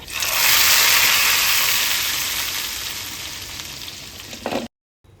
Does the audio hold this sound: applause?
no